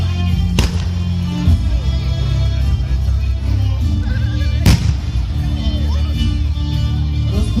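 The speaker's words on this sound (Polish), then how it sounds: "rozpoczął się ostrzał miasta z artylerii ognistymi kulami i strzałami, by je spalić" Two sharp artillery cannon blasts boom out during a reenactment of the 1466 siege of Chojnice, spaced about four seconds apart over a busy crowd and battlefield din with voices.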